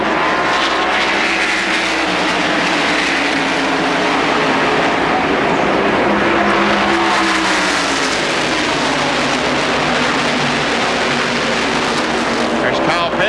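NASCAR stock cars roar around the track at the 1992 Hooters 500, two running side by side, in a loud, continuous engine drone with a rising and falling pitch and a commentator talking over it.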